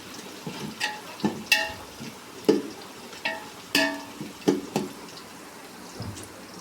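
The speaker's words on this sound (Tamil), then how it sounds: "ஆனியன் கொண்டு வதங்கி கொண்டிருக்கிறது" Onions frying in a pan for chicken biryani give a low, steady sizzle, with about a dozen distinct spoon taps and scrapes against the pan spaced through it, close up and without speech.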